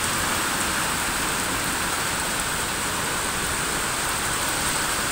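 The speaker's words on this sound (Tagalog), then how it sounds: "Grabe ulan oy." Heavy morning rain pours down steadily on a street with passing cars, a dense, continuous loud hiss with no break across the whole stretch and no voices.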